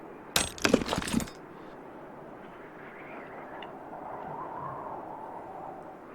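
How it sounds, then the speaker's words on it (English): A chisel levers a metal letter out of a mold in the adventure game Yesterday Origins, a short burst of sharp cracking and clinking that gives way to a quiet hum. "You introduce one of the beveled edges between the mold and the letter, lever the chisel and..."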